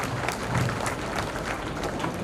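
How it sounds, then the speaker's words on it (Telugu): An audience at an engineering college orientation day claps steadily, a dense continuous wash of applause from many hands with no talking. "గట్టిగా క్లాప్స్ కొట్టచ్చు అందరూ"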